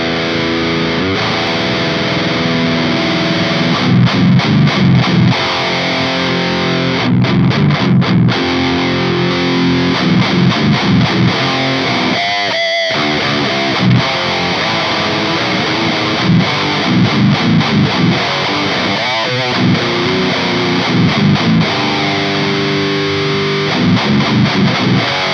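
Heavily distorted electric guitar pushed through a Lancaster Audio boost plugin into an Orange amp: loud, gritty riffs with a grindy low end, chugging chords and short pauses, played alone without any talking.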